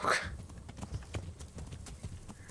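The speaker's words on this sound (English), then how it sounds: "I'm on a horse." Horse hooves clip-clop at a steady trot in the medieval game Kingdom Come: Deliverance, close and moderately loud, with a sharper burst of noise at the start.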